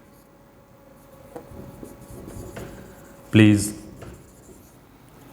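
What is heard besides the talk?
teacher writing a letter's complimentary note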